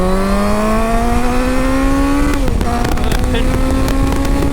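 A Honda CBF 1000 motorcycle at full throttle, its loud engine note rising steadily, then dipping briefly at a gear change before climbing again, with heavy wind roar throughout.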